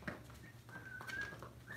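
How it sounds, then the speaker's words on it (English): A child whistles a few short, thin notes indoors during an exercise class, quiet and somewhat distant, with small pauses between the tones. "No, don't whistle. Who's whistling?"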